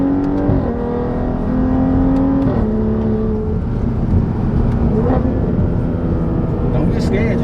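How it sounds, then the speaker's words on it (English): Exhaust of a BMW F30 fitted with pure turbos, heard from inside the car as it accelerates, with a loud steady drone that climbs in pitch through the gears while people talk over it. "inside the car, the exhaust sounds really, really good"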